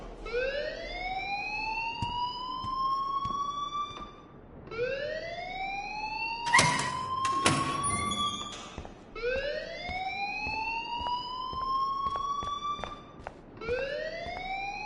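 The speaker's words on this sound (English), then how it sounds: "please turn off that alarm since that's your job" An alarm wails loud and close in repeating rising sweeps about every four seconds, with a brief clattering burst partway through.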